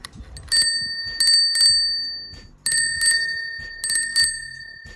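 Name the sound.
old-fashioned bicycle bell ringing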